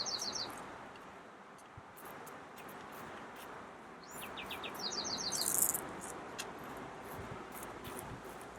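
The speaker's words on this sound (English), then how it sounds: "Can you hear the bird?" Small bird chirping and tweeting outdoors on a calm day, a few short bright bursts of calls at moderate distance over soft ambient background, with one louder call standing out midway.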